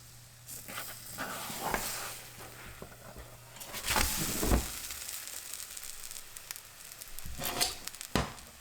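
An okara pancake fries in a covered pan, giving a soft, steady sizzle with faint crackles and occasional louder bumps close by.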